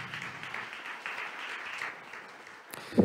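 Audience applause at a Latvian youth-politics conference panel discussion, a steady, moderate wash of clapping sustained for nearly three seconds, followed by a brief louder knock at the end.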